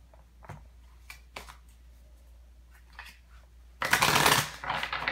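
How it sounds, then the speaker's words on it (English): A deck of tarot or oracle cards is shuffled by hand close up, with scattered soft taps and slides, then a dense burst of riffling near the end; no one speaks. "And I'm going to shuffle on camera."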